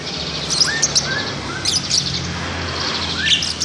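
Lovebirds chirp in quick, bright bursts at a bird dealer's, several short tweets scattered over a low background hum, fairly close and without talking.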